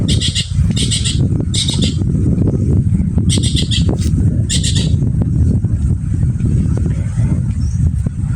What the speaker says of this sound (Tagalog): May nakadapo pang ibon.